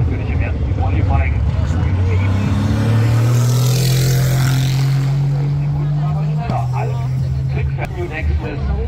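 A Porsche race car drones at high revs in a long sustained pull during qualifying laps at the Nürburgring 24 Hours, then briefly lifts and picks up again, loud and close, with a commentator speaking German over it.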